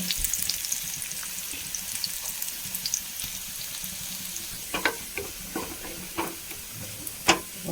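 Oil sizzles and crackles steadily as onions fry in a pan, with occasional scraping stirs and sharp spits toward the end.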